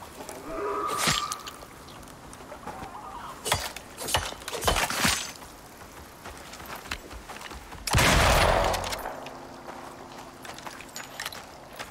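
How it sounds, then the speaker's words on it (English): Gunfire in the survival game Icarus out in open countryside, with scattered sharp shots and short bursts spread across the stretch, one heavier blast near the end, and quiet gaps between them. "Man, we're just shooting up the countryside."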